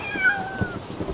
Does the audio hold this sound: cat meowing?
yes